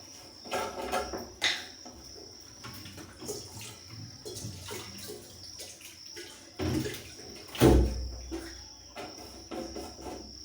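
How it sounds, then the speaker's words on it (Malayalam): Water being poured into a pot of cooking rice in a home kitchen. A rushing, splashing flow comes in uneven surges, loudest near the end, over a steady background chirp of crickets, with no talking. "ഇതിനകത്ത് കുറച്ച് വെള്ളം കൂടി ഒഴിച്ചു കൊടുക്കുന്നുണ്ട് കേട്ടോ."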